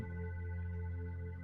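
A telephone rings faintly in the background, a steady tonal hum with no voices over it.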